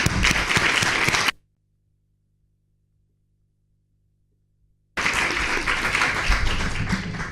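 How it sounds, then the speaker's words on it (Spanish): Audience applause at a talk on audiovisual writing, a dense burst of clapping that cuts to near-silence for a few seconds before loud clapping resumes. "les pido un aplauso para los tres"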